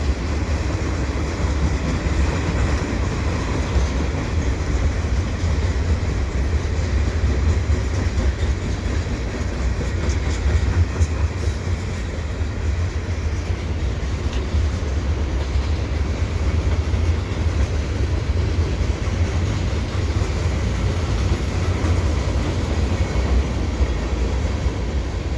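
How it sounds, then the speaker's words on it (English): A CP freight train passes at Dorval, a steady, close rumble of rolling railcars with faint clickety-clack that holds at an even level throughout, with no voices. "There's a CP train there. Another train."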